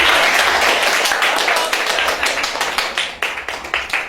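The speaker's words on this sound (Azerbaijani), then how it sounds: "Bu alqışlar sənin üçündür" Audience applause for a young performer at an instrumental music masterclass, dense clapping that thins into scattered individual claps as it fades toward the end.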